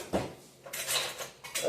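Metal kitchen utensils clatter and clink in a drawer while someone rummages for a spatula, giving a few short, close, bright jangles.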